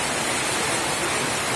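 A heavy downpour in a flooded neighbourhood, a thick, constant wash of rain noise, close and unbroken, with no other sounds or talking.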